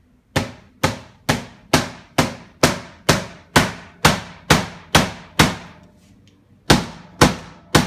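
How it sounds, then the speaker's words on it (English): A hammer repeatedly strikes the back of a hatchet driven into a skull. Loud, evenly spaced blows, about a dozen in a steady rhythm, pause briefly and then return for a few more strikes. "What about a hammer to the back of the hatchet?"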